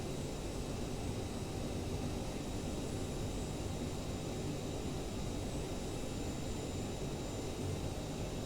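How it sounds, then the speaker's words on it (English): A passing airplane at Montreal airport in a flight simulator game, heard as a steady, broad jet-engine roar holding level for several seconds with no talk over it. "there goes the plane in front of us."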